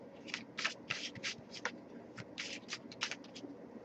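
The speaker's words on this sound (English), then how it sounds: "I'll give it a few more shuffles" Tarot cards are shuffled close by in quick bursts of riffling and sliding, irregular flutters separated by short pauses, with a low room hum underneath.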